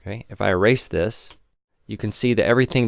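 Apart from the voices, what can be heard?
No distinct noise like a dog, phone or traffic.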